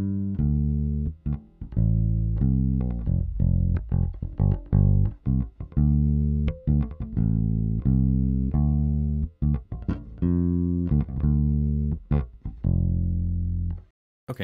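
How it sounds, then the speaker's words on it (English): Dry bass guitar recorded direct in, playing a plucked line of distinct notes with sharp attacks and sustained low tones, close and loud, with no voices. "So here's a bass I recorded from a direct in,"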